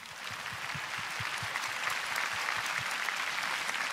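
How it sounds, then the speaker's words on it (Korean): A ceremony audience at the 7th Honbul Literary Award ceremony in 2017 gives dense, steady applause, a continuous wash of many hands clapping with no talk over it. "다시 한번 큰 박수 부탁드립니다."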